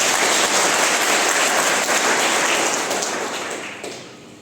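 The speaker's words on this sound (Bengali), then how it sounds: "আমি সবাইকে রিকোয়েস্ট করবো বড় করে একটা তালি দেওয়া" Loud, dense applause from a large audience at an annual business conference, sustained and steady, then gradually tapering off near the end.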